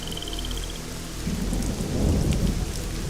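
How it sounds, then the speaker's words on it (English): Heavy rain pours steadily in the Nancy Drew: Legend of the Crystal Skull video game, with low rolling thunder swelling beneath the downpour and building louder toward the end. "This rain is really coming down."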